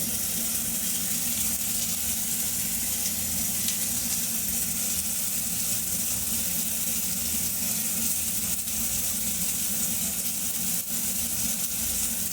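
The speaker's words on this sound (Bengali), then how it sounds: "এবার আমড়াগুলোকে কড়াইয়ের মধ্যে দিয়ে দেবো।" Hog plums sizzling in a hot karai with salt and turmeric, a loud, constant hiss and crackle of frying that runs unbroken for twelve seconds, with no talking.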